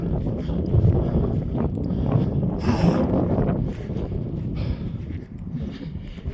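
Wind buffets the microphone while riding down a hill, a loud continuous rumble that rises and falls, with no talk.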